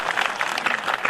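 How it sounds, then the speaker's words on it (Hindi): Dense applause from an audience at a Hindi comic poetry recital, a kavi sammelan, a continuous patter of many hands clapping, moderately loud and fairly near. "ताली आ जाती है।"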